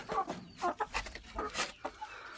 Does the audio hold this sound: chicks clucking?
yes